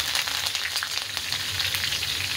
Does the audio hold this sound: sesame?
yes